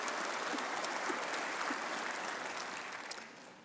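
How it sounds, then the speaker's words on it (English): Applause from an audience at a Grand Lodge of Texas Masonic ceremony, a steady crowd clapping for about three and a half seconds that tapers slightly toward the end, with no talking. "Let's give Right Worshipful Griffin a round of applause."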